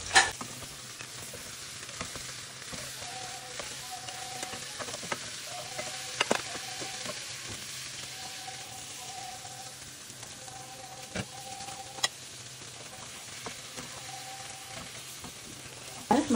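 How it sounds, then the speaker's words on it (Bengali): Prawns frying lightly in a pan for a Bengali prawn dish, giving a steady, close sizzle with soft stirring scrapes and occasional louder clicks from the utensil, heard alone without any talking. "এই জন্য আমি খুব আলতো করে একটু ভেজে নিচ্ছি।"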